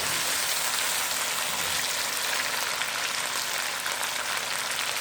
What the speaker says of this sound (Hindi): चिकन जो है हमारा फ्राई हो चुका है